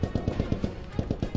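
Automatic gunfire in the WW2 video game Post Scriptum, a loud close burst of rapid, evenly spaced shots with no voices over it.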